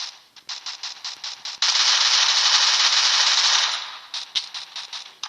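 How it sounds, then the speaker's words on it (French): Gunfire in the mobile shooter game Free Fire Max: sharp rapid bursts of shots, then a sustained loud automatic volley lasting about two seconds, followed by more spaced single shots, with no talking. "C'est vrai que, non pas l'impact, mais l'effet des balles qui ressort, c'est plus réaliste, effectivement."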